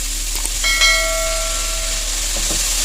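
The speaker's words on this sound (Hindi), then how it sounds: "1 से 2 मिनट हम इसको फ्राई करेंगे।" Grated carrots and onions sizzle in a frying pan, a steady close hiss that runs throughout, with a brief ringing tone near the start.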